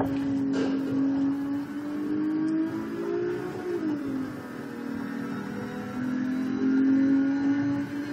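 Ferrari 612 V12 engine in a Ferrari racing video game, a steady droning synthetic engine note that rises and dips slightly as it revs, continuous and fairly loud with no talking.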